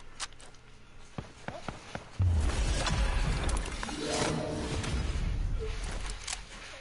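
A shield breaking in the Fortnite video game, a sharp shattering crack followed by a loud low impact and lingering rumble, preceded by scattered light clicks and taps.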